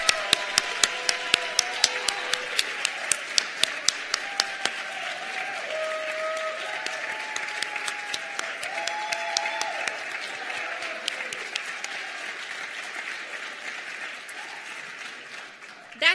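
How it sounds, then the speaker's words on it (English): Audience applause at a first-generation student commencement ceremony for the class of 2023, starting with sharp individual claps that grow into a steady, dense round of clapping lasting throughout, with faint voices underneath. "Let's give one more round of applause to the first-generation students of class of 2023."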